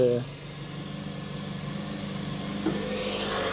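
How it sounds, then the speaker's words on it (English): An Austin Metro engine idles high with the choke on, a steady near rumble that runs throughout with a brief bump near the end. "At the moment the choke is on, so the idle is quite high, but it's just sounding amazing."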